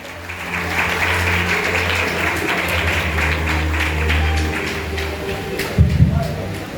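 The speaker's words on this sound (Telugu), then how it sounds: "చప్పట్లతో దర్శనం ఆహ్వానిస్తాం" A congregation claps in a church during a Christmas celebration in Nandipet, welcoming a visiting MLA. The applause is a steady, dense wash lasting throughout, with a low hum and faint murmur beneath it and a brief louder burst near the end.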